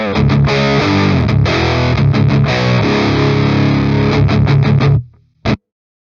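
Heavily distorted metal electric guitar through a free amp-simulator plugin with the gain raised, playing chugging riffs and chords that ring out, stop, then a final short stab, loud and close with no talking.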